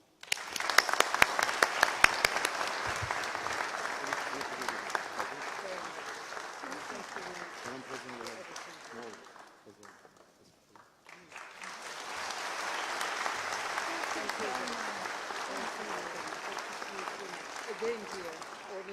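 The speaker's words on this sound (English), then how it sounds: "I would like to ask you to join me in an applause." Steady applause from a commencement audience honouring the President of Georgia, a dense crowd clapping that fades briefly mid-way, then swells again and continues.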